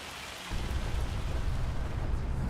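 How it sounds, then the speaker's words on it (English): Steady rain on an Iowa farm, a dense broadband hiss with a low rumble underneath that grows noticeably heavier after the first half-second and then holds constant, with no voices. "It's a bit less noisy from the rain."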